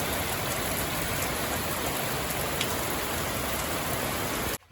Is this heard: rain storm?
yes